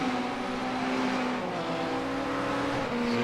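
GT3 race car engine in iRacing at Lime Rock Park, a loud, steady and close drone with a strong even tone and a faint rising pitch as the car accelerates out of a corner, heard alone with no talk.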